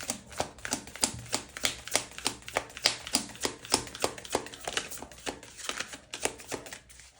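Tarot cards being shuffled by hand, a rapid run of crisp riffling taps in a steady rhythm, close and fairly quiet with no voice over it.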